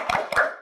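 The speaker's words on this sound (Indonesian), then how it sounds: "Tepuk semangat." A classroom of students claps together for a spirit cheer: two quick, sharp claps close by, then a short fading ring.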